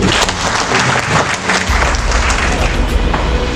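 An audience at a government coordination meeting in Fakfak, West Papua, applauds with dense, loud, sustained clapping that fills the short clip without a pause.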